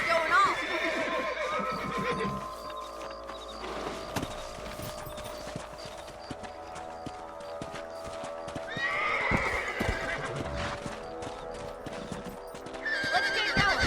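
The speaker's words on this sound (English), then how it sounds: "Let's get back on the horses and see what else is going on." Horses in the Red Dead Redemption video game neigh and whinny while hooves clip-clop steadily along, loud and close, with game music and ambience running underneath.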